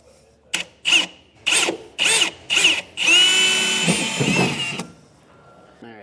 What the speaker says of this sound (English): we'll take our 1/8 inch drill bit and we will do a little pilot hole here